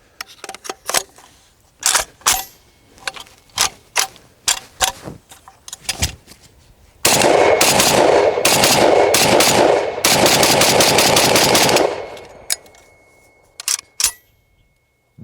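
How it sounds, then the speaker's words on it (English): FAL rifle with upgraded trigger and muzzle brake firing during shooting drills outdoors, sharp single shots spaced out, then a rapid string of loud shots, followed by a few more isolated cracks. "we are going to look at some simple drills with the FAL"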